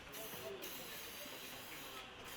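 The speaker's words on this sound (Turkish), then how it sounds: "Yine balata spreyimizi sıkıyoruz." Brake cleaner aerosol sprayed in a steady hiss over an Opel Corsa 1.4 engine block surface during head gasket work, continuous and close with faint background noise throughout.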